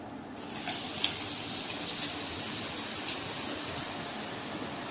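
Boondi batter poured into hot oil for laddu fries with a continuous close hissing rush, broken by faint soft pops and bursts, with no one speaking.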